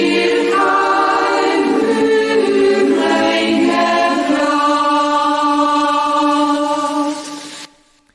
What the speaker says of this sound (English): So I added lots of compression and some saturation to make the highs a bit crispier and to make the all-in-all volume quite equal.